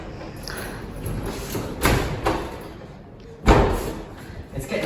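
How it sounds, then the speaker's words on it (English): A stiff, multi-lock apartment door in Florence being forced open and shut: heavy thuds and a loud slam over a rattling, rustling background, with a voice faintly present. "This is what we have to go through every time we try and get through the door."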